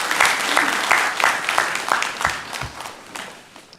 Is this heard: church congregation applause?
yes